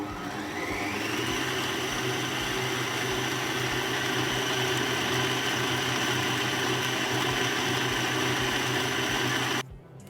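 An electric mixer whirs steadily while beating blueberry muffin batter with sour cream added, a loud continuous motor drone that runs for about nine seconds before shutting off abruptly.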